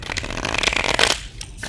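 Tarot cards being shuffled, a dense papery riffling that runs steadily and close, then drops away briefly near the end before picking up again faintly.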